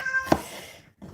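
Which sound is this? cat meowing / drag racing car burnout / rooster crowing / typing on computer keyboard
cat meowing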